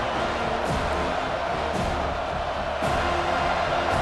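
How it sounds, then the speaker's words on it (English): Home crowd noise from the college football video game EA NCAA Football 25, in a Georgia Tech versus Florida State game, rises as a steady, broad roar that fills the whole stretch without break. "Here comes this home crowd as the defense tries to get off the field on 3rd down."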